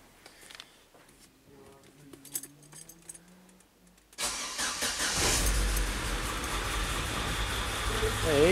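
A Chevrolet Astra 2.0 8v that has sat unused since the day before starts up after a few keys and clicks, then settles into a loud, steady idle close by, catching roughly at first before evening out.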